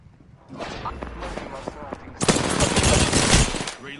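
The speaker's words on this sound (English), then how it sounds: "The enemies are shooting at me." Rapid bursts of automatic gunfire from enemies in the video game Apex, a sparse volley of shots followed by a dense, loud, sustained barrage with close, sharp cracks.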